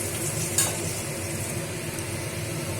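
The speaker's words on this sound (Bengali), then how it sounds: "উচ্ছেটা লাল লাল করে ভাজা হয়েই গেছে" Bitter gourd fries in oil in a pan, making a loud, even sizzle throughout with a single sharp utensil clink near the start.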